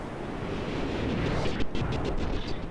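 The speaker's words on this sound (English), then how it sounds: "So we got an explosion going on just at the back of the Hurricane there." An explosion rips across the back of the Hurricane warship during a space battle game, a dense rumbling roar that swells and crackles with a few sharper bursts near the end.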